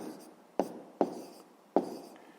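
A pen writes fractions in a notebook, making three distinct scratchy strokes spaced apart, each starting with a sharp attack and trailing off, close and clear in a quiet room.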